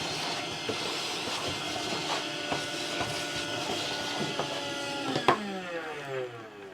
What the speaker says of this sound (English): They're Stanley Fatmax, and it's a fantastic Hoover vacuum